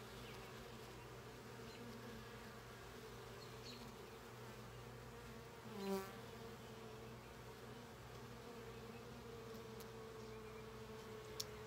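Honeybees hum steadily around an open hive during an inspection, a dense, even buzz close by with a faint brief clatter near the middle.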